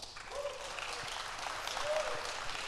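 An audience at a venture day event in Madrid claps steadily, a faint, even wash of applause heard from a distance and held for a few seconds.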